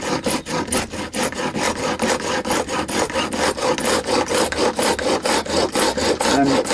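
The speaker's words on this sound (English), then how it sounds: "This is now putting a sort of 30-ish degree bevel onto the fret ends" A file rasps back and forth in quick, even strokes, beveling guitar fret ends to roughly 30 degrees during a refret of an Epiphone Moderne, loud and close without pause.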